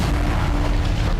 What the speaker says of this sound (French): La force de l'explosion projette des débris à près de 9 mètres de hauteur.